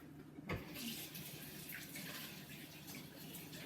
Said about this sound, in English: I'm gonna lick my hands and then wash them